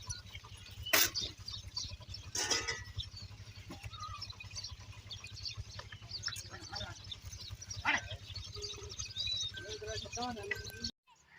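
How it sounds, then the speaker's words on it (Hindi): Sheep bleat now and then in a village amid faint bird calls, over a steady low engine-like hum, while someone talks throughout. "और भेड़ें भी आ चुकी हैं। हमारे गांव की खूबसूरत भेड़ें।"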